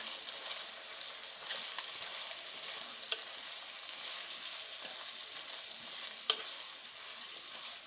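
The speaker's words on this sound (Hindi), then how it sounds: "चिकन फ्राई करने के बाद अब हम इसमें धनिया पाउडर और लाल मिर्च पाउडर डालकर कुछ देर के लिए फिर से फ्राई करेंगे" Chicken frying with coriander powder and red chili powder, heard as a steady, close hiss of sizzling oil with light stirring scrapes and an occasional sharper tick, and no talking.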